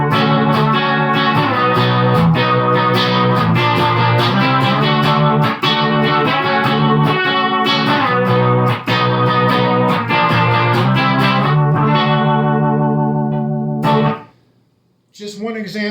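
An electric bass plays a sustained riff through an effects pedal, heavily processed with a thick effected tone over the solid bass tone, running continuously before the notes cut off near the end.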